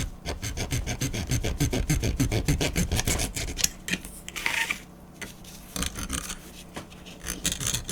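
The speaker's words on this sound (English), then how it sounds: "This is kind of tough plastic. I'm glad I'm sawing this." Rapid, rhythmic back-and-forth sawing strokes on hard plastic, close and loud, slowing into scattered rasps and scrapes.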